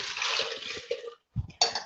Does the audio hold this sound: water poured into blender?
yes